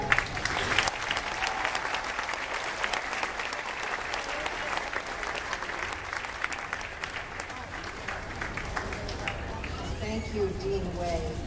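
A graduation audience at a Columbia University SIPA ceremony applauds the dean, sustained dense clapping with some cheers, loud and continuous throughout, with crowd voices underneath.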